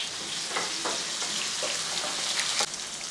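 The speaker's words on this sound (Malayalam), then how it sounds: "ആ വെളിച്ചെണ്ണ ഒഴിച്ച് ചൂടായ ശേഷം അല്പം കടുക് വന്നിട്ട് കൊടുക്കാം" Mustard seeds and onion sizzle in hot coconut oil for a Kerala-style curry, giving a close, steady frying hiss with scattered sharp pops and crackles and no talking.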